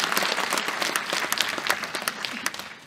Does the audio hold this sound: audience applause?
yes